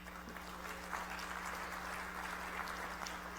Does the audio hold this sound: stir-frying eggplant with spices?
no